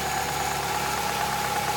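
Steady, even idle of a 2017 Nissan Rogue SV's clean inline 4-cylinder engine, a smooth constant hum with a faint whine, close by and uninterrupted.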